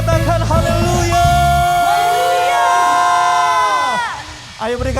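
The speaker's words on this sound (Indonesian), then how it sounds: "Ayo berikan tepuk tangan sekali lagi di rumah-rumah." A church congregation at an online Sunday worship service breaks into loud cheering and whooping with clapping, the crowd noise sustained and close throughout, dropping off briefly near the end as a voice comes in.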